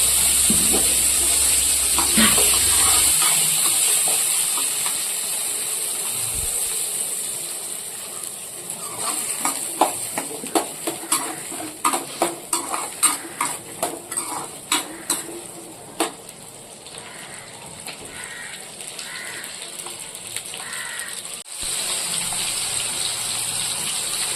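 Shallots and garlic sautéing in a pan for Kumbakonam-style vathal kuzhambu: a steady close sizzle carries throughout, broken midway by a run of sharp clinks and scrapes from stirring.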